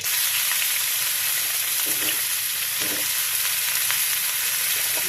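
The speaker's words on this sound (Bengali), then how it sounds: "এখন আলুটা ভেজে নেব।" Potatoes seasoned with salt and turmeric fry in a pan, a dense, loud, continuous hiss of oil with a few faint stirring knocks, heard close and alone.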